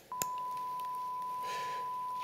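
A steady synthesized tone, a sine wave with its third harmonic added to approximate a triangle wave, holds evenly for about two seconds on its own after a soft click.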